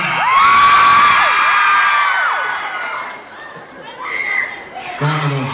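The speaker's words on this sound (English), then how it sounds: "All I have to do to get a reaction out of the crowd is say his name." Loud crowd of fans screams and cheers at a live Christmas concert, a burst of high shrieks and whoops that swells at once, then tapers into scattered shouts and a rising second wave near the end.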